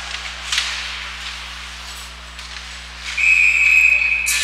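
A referee's whistle at a boys' high school hockey game in an arena, a sustained shrill blast near the end of the clip, heard over rink ambience and crowd noise.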